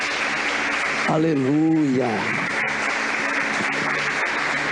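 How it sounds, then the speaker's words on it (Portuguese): Church congregation applauding during a worship service, a steady wash of clapping throughout with a single voice calling out briefly in the middle. "Aplauda Jesus, amados."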